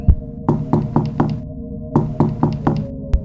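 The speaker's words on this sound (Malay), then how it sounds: "dia orang dengar ada orang ketuk pintu daripada depan" Someone knocks on a front door in two quick bursts of four or five firm raps each, separated by a short pause, with no voices.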